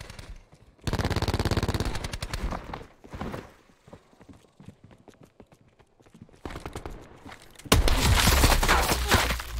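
Rapid bursts of Black Ops 4 gunfire, loud automatic volleys separated by quieter stretches of clicks and footsteps, ending in a heavy sustained barrage.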